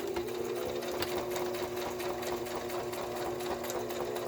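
Sewing machine stitching along a line of fabric, a fast, steady mechanical whir with rapid needle clatter running continuously, close and even throughout, with no one talking.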